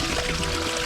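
Steady, continuous trickle of water running without a break, fairly close and even in loudness, with no voices.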